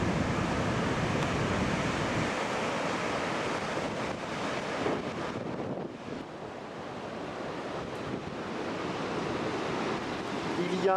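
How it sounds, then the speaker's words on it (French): Water roars over the Bazacle weir on the Garonne river in Toulouse, a dense continuous rushing wash mixed with gusty wind buffeting the microphone, steady and loud throughout. "Le bruit des chutes est impressionnant."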